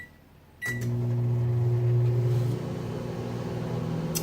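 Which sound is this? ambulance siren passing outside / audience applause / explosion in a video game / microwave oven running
microwave oven running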